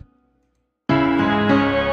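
After a brief near-silence, a virtual nylon-string acoustic guitar enters suddenly, strumming full chords that ring out clearly.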